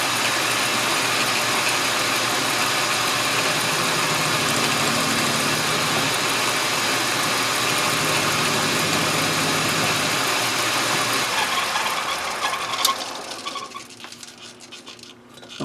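Metal lathe taking light cuts on a linkage part for a wooden grasshopper engine, a steady broadband whir and hiss running continuously for most of the stretch, then dropping away near the end as the cut stops.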